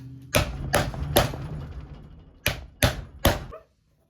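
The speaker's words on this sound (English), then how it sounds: "aggressively hammer now" Six sharp hammer blows land on leather on a firm surface, three in a quick row, a pause, then three more, close and loud, while making a leather dog collar.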